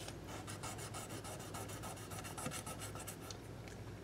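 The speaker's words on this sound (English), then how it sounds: "So just a couple of swipes with the 1000 grit sandpaper." Fine 1000 grit sandpaper rubbing over the frets of a PRS SE 245 electric guitar, a steady rapid rasp of short back-and-forth strokes, close and even, with no talking.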